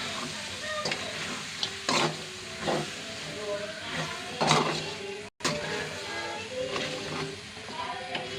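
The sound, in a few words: stirring chicken curry frying in a pan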